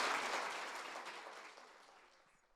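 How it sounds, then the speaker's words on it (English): Audience applause for two chefs at a culinary presentation, a broad burst of many hands clapping that starts full and gradually fades away over a couple of seconds. "So a big round of applause,"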